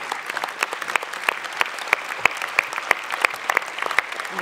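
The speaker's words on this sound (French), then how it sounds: "Et on peut l'applaudir." An audience at a 2024 New Year wishes ceremony applauds, a steady burst of many hands clapping in a room with a few sharper claps standing out, no talk over it.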